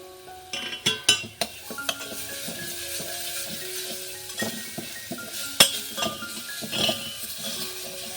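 Food frying lightly in a small amount of oil, with a steady soft sizzle broken by sharp metallic clinks and scrapes of a utensil stirring in the pan, close and fairly quiet.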